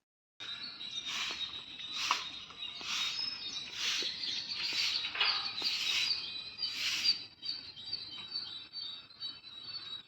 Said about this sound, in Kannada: ನಮ್ಮನೆ ಹತ್ರ ಹಕ್ಕಿಗಳು ಚಿಲಿಪಿಲಿ ಕಲರವ ಸ್ವಲ್ಪ ಕೇಳಿಸ್ತಾ ಇರುತ್ತೆ.